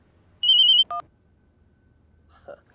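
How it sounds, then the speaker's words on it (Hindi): A single short electronic phone ring trills in a rapid warble, followed by a brief tone, then near silence with a faint blip. "आज ये फोन भी अभी आना था।"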